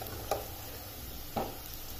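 Cooked jeera rice is stirred gently in a pan, giving two soft scraping strokes over a faint steady hiss.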